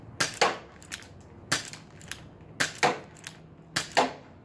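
Airsoft revolver firing shots, sharp mechanical cracks in pairs, each shot followed by a cocking click, repeated at a steady pace nearby.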